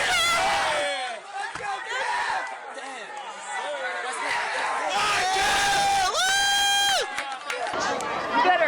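A mother yells and cheers from the sidelines at a children's sports game, loud and close amid crowd chatter, shouting kids and other cheering voices, with rising excited whoops near the end.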